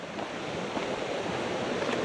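The River Devon rushes through Rumbling Bridge Gorge as a continuous, loud, broadband roar of flowing water with no break in the sound.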